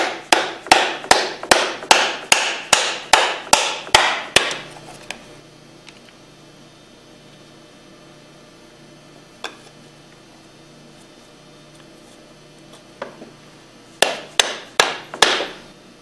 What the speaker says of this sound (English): use the cup spreader and the PVC pipe to drive them in